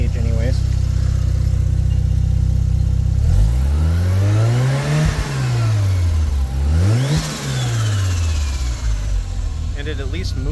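Turbocharged Mazda RX-7 rotary engine at full operating temperature, idling loudly and close, then revved twice with rising and falling sweeps before settling back to a steady idle.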